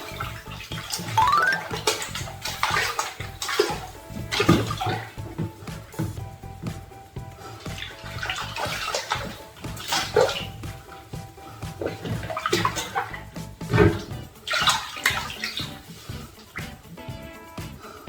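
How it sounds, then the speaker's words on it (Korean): A shower head hung on its holder runs water into a folding half-bath tub, giving a steady, close rush and splash that stays dense and even throughout with no talking. "샤워기 거리에 샤워를 걸어놓고 물을 받아보겠습니다."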